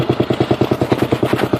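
Four-stroke outboard boat motor running on a lake after an engine swap, a close, steady chugging with evenly spaced pulses and no talk over it.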